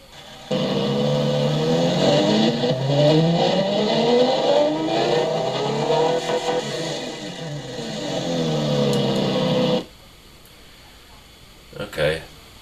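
A V12 engine fitted with race headers and dual exhaust, in the Automation car game, revs up and down for about nine seconds, loud and rising and falling in pitch, then cuts off abruptly to near silence.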